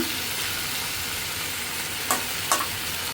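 Curry with vegetables and ground spices fries in a pan with a steady, dense sizzle. Two brief clanks of stirring sound near the end, and there is no talking.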